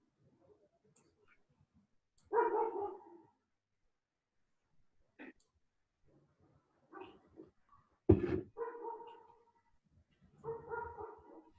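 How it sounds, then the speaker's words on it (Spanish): A dog barks a few separate times at a distance during a quiet stretch, short bursts with long silent gaps between them. "Solo escucho a mi perro ladrar."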